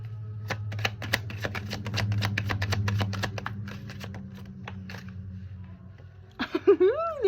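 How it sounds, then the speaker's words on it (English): A deck of tarot cards is shuffled up close, giving a rapid series of crisp riffling clicks over a low hum that thin out, before a voice begins speaking at the end. "The Wheel of Fortune is popping out, but we're still shuffling"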